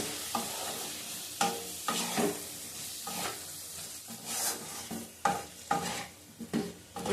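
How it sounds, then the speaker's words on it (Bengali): Tomato and eggplant fry in a pan, with a steady sizzle under repeated scraping stirring strokes, close and fairly even throughout. "দু টুকরো টমেটো দিলাম, আবার ঢাকা দিয়ে কষাবো"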